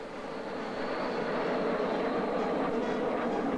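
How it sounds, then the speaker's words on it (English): A flight of Fouga Magister jet training planes passes overhead at a 1968 Israeli military parade, producing a loud, steady, broad jet roar that swells slightly and holds without any talking. "the military display opens with a flight of Fuga Magister jet training planes"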